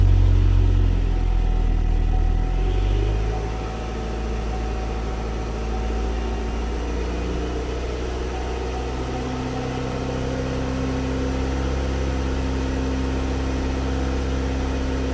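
A 2007 Pontiac Solstice with a P0442 evap fault starts up with a loud low crank, then settles into a steady, close engine idle that runs on alone.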